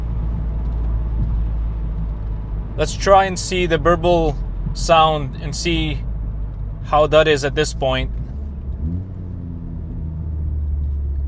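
Tuned 2018 VW Golf R MK7.5 with a Stage 1 ECU flash, its exhaust rumbling steadily through the cabin in sport mode, second gear, while someone talks over the low drone.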